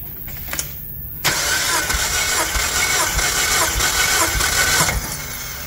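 A 2003 Mazda Protege sedan engine with about 105,000 miles cranks over on the starter during a compression test, a loud, steady, rhythmic whirring chug lasting nearly four seconds after a brief quiet start, then cutting off abruptly.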